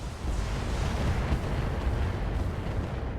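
Mech weapons firing in the BattleTech video game, heard as a dense, continuous roar of rumbling blasts and booms with no clear pauses, loud and close, with no talk over it.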